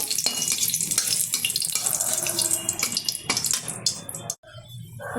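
Two dried red chillies fry in hot white oil in a wok, giving a loud, continuous sizzling hiss that breaks off sharply near the end before resuming faintly.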